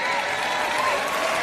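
Worshippers at a church sermon break into applause, a thick, continuous roar of clapping with some crowd noise that holds at an even, loud level throughout.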